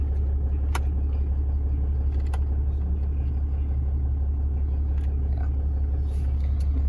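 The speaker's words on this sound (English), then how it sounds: "I hear the compressor working, but the blower itself is not blowing." AC compressor of a 2017 Ram 5500 truck running with a steady low drone under the idling engine, plus a few faint clicks, with no talking.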